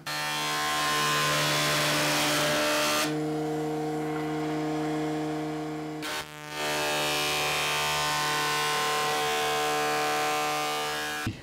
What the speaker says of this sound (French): j'ai dégauché une face et les tranches, et vous voyez, ça fait un superbe chêne